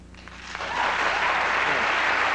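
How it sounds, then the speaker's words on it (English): Applause from a television talk-show studio audience starts with a few scattered claps, then swells into fuller, sustained clapping that stays fairly even to the end. "half clapped and half didn't"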